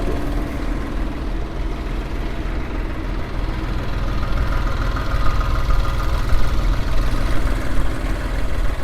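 A Jinma mini tractor engine idles steadily with a low, chugging rumble, close by and continuous, rising slightly in loudness partway through.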